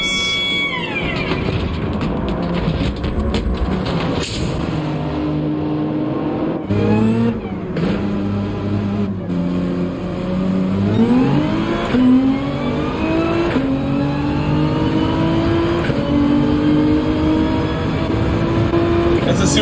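Toyota Supra and other race car engines in Gran Turismo rev and climb through gears with rising whines, repeated shifts and passing cars, while a person talks over them throughout.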